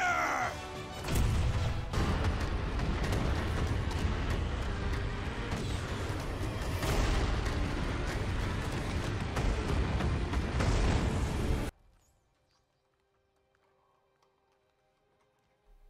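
Cannon fire from the pirate-ship video game Skull and Bones: a dense, loud barrage of booming blasts and crashing impacts rolls on for about eleven seconds, then cuts off abruptly to near silence.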